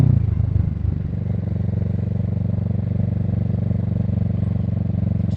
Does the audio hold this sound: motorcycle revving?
yes